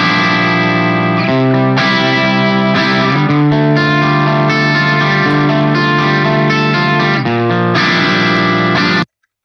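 Bright, high-pitched single-string guitar strums with a distorted, chorused effect, several sustained hits in a loose rhythm over about nine seconds, then an abrupt cut to silence.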